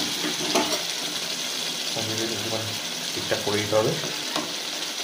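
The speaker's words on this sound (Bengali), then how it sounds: "এবার কিছুটা নেড়ে চেড়ে নিতে হয় মাছটাকে" Fish curry cooking in a pan with spiced water is stirred, giving a steady wet sizzle and bubbling with soft scraping and splashing movements, while a person talks briefly over it.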